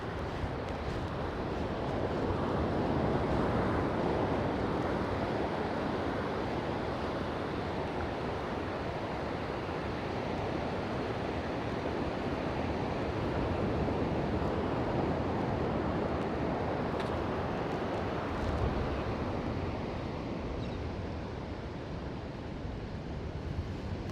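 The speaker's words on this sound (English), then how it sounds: "All you're going to hear is the ocean." Steady ocean surf washes onto a beach at Playa Mariana, Nicaragua, a continuous broad roar of breaking waves with some wind over the microphone and no voices.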